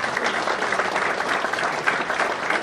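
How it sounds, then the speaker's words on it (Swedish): A theatre-foyer audience breaks into applause, a continuous, evenly dense clapping that holds at a steady level for a few seconds. "Det är värt en applåd."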